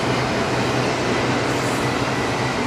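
A CSX freight train crossing over onto the opposite track at reduced speed, giving a loud, steady, close rumble of rolling wagons that fills the whole moment without letting up.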